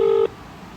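A single short dial tone beep sounds as a phone number is dialed, clear and steady for a fraction of a second, then cuts off into quiet.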